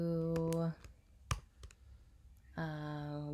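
A computer keyboard gives a few sparse, sharp key clicks in the pause between stretches of a person talking, while an assignment is typed up for a classroom.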